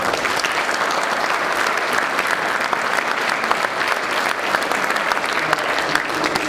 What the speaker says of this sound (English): Give yourselves a round of applause, because that is absolutely awesome.